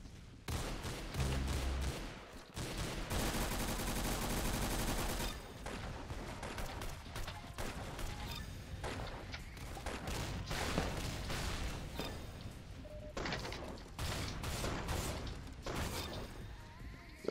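Shots in the Roblox game Jailbreak, a long, busy stretch of repeated gunfire cracks and bursts layered over constant game noise and music, rising and dipping across seventeen seconds with no clear talk.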